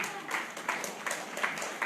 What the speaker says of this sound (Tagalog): Palakpak para sa Panginoon.